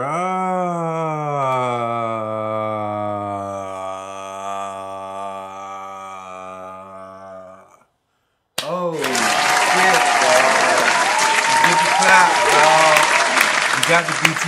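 After a sustained sung note cuts to silence, loud, dense applause and crowd noise erupt and hold steady for several seconds, continuous clapping filling the rest of the stretch.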